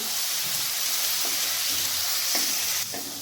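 Ginger and green chilli paste frying in a pan for a vegetarian soybean curry, a dense steady sizzle with a few soft knocks of the spatula being stirred through, no talking.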